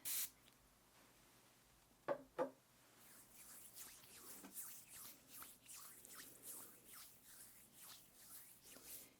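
A couple of short, soft spritzes from a spray bottle onto a hand in a quiet room, followed by faint rustling and shuffling.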